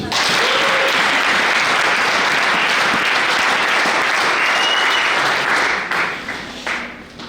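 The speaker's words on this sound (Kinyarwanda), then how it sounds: "Bamere Imana amashyi." A church congregation claps together in loud, dense, sustained applause that holds steady for several seconds, then thins out and fades near the end.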